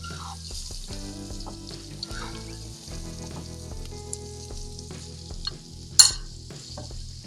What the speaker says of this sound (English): You see that nice sizzle right there?